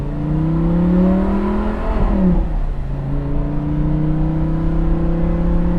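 A 50th Anniversary Lamborghini engine with an upgraded exhaust revs hard with a loud, raspy exhaust, its pitch climbing, dipping briefly, then rising steadily again, close and continuous.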